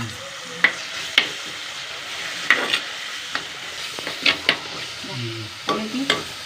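Apple tomatoes and green chillies fry in a pan for a tamarind fish curry, a constant low sizzle punctuated by repeated sharp scraping stirs, some close and crisp.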